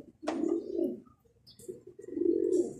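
Pigeons coo close by in two low, throaty rolling bursts with a short pause between them, along with a few faint higher chirps.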